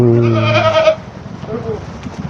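Goats bleat on a goat farm, a loud close wavering bleat for about a second followed by quieter farm background noise and a fainter second call.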